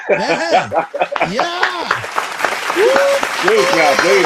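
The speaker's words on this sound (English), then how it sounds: "Let us clap on that one." A church congregation breaks into clapping and cheering, the applause running under overlapping talk and chuckles from several people.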